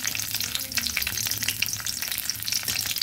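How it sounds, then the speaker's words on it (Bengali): A few raisins frying in hot oil, a close, bright, bubbling sizzle with rapid crackles and pops, steady throughout. "তেলটা গরম হয়েছে, এবার আমি তেলের মধ্যে কয়েকটা কিশমিশ দিয়ে দিচ্ছি।"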